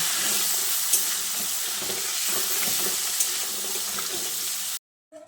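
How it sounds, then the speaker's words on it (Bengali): Potato pieces fry in hot oil with salt and turmeric, a loud continuous close sizzle with faint stirring scrapes, cutting off abruptly near the end. "সঙ্গে একটু নুন আর হলুদের গুঁড়ো দিয়ে আলুটাকে একটু লালচে করে ভেজে নেব।"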